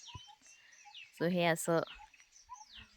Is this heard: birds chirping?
yes